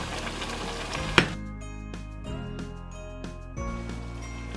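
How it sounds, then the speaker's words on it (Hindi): Biryani masala with yogurt and medium potatoes frying in a pot, a sizzling hiss opening with a sharp metallic clink, then quieter sizzling broken by soft stirring knocks. "दही डालने के बाद अब आप इसको मज़ीद 5 से 6 मिनट तक अच्छी तरह से भून लीजिए।"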